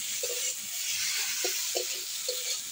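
Potatoes and spices are stirred and fried in a pan for a kuche fish korma, with a steady close sizzling hiss and a few soft scraping stirs scattered through it.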